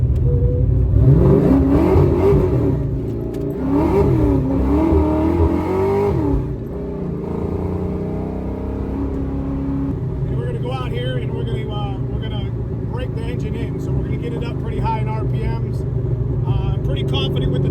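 A Ford 351 Windsor V8 with a choppy cam revs up and down loudly and close during engine break-in, with a rough uneven idle, while people talk over it.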